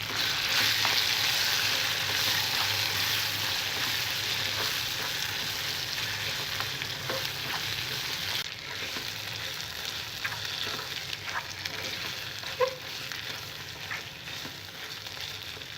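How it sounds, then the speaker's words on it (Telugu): Ground raw tamarind and fenugreek leaf chutney is added to a hot tempering of garlic and curry leaves and sizzles steadily, with occasional stirring scrapes and clicks as the frying gradually quietens. "మనం ముందుగా నూరుకున్న పచ్చడిని తాలింపులో వేసుకోవాలి"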